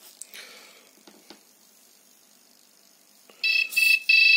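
A homemade Arduino Christmas project with lights, songs and a moving Santa Claus. After near silence with a few soft clicks, loud electronic buzzer tones start abruptly and play in short bursts at the end.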